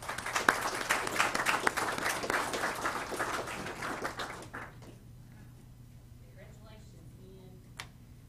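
Applause at a signing-day ceremony for technical college students, a crowd clapping briskly for about four seconds before it dies away to near silence, with only a few faint voices and stray sounds afterward.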